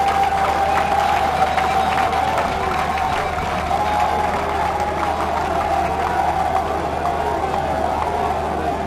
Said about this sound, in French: S'il vous plaît, applaudissez pour fort pour le président de la République.